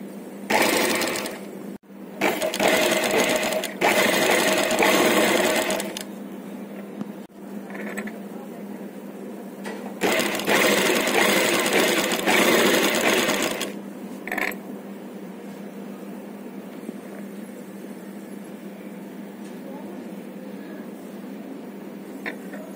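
Sewing machine stitching invisible thread piping, running in two long bursts of rapid mechanical whirring with brief pauses and a short stop between them, close and loud.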